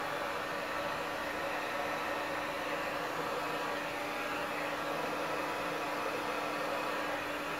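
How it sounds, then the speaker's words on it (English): A hair dryer blows with a steady, unbroken rush of airflow and a faint motor whine, close and constant throughout. "so I'm going to use a hair dryer"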